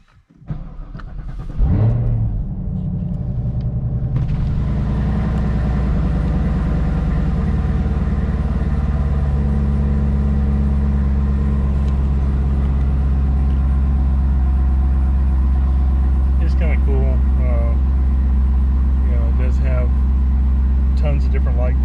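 A 2020 Chevrolet Camaro ZL1 1LE starts up with a sharp crank and bark, then settles into a loud, deep, steady idle rumble close by, with a few faint ticks over the drone.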